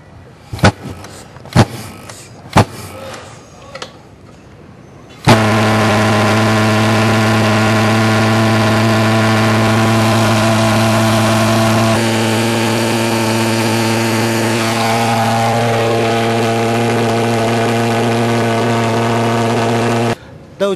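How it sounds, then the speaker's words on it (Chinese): A thermal fogging machine (fogger sprayer) for chemical pest control: a few sharp knocks, then it fires up into a loud, steady, high-pitched droning roar that holds for about fifteen seconds before cutting out. "热雾机启动以后，它的声音是比较尖锐一点"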